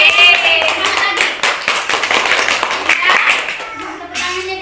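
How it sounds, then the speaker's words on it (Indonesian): Students in a classroom clap together in a brisk, ragged burst of applause, with children's voices chattering over the clapping throughout. "Tepuk tangannya dia."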